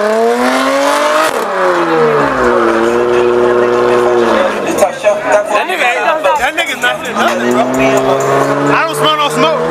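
A car does a burnout at a burnout competition, its engine revving loud and steady with rising and falling pitch sweeps, while crowd chatter and shouting carry on throughout.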